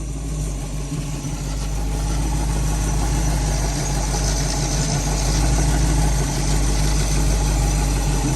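A car radiator cooling fan spinning up behind its fan shroud, a loud, steady whirring drone over a low engine idle hum, holding constant throughout.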